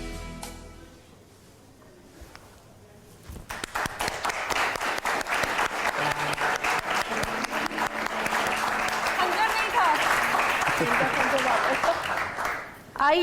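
An audience claps for the performers playing Romeo and Juliet in a staged show, with loud, dense applause swelling after a quiet start and holding strong for several seconds before fading near the end.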